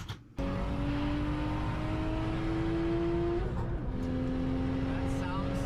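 A modified BMW E46 engine revs hard with a rising, strained tone, steps up through the pitch, dips, then settles into a high steady howl, loud and close, with a voice talking over it.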